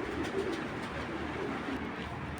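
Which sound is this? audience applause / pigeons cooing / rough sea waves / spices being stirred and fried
pigeons cooing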